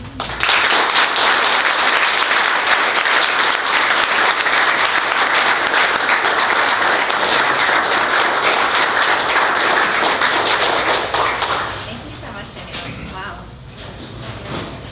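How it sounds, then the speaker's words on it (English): Audience applause at a live literary reading event, loud sustained clapping from a full room that fades after about eleven seconds into scattered claps and murmurs. "Thank you for sharing your applause with your readers."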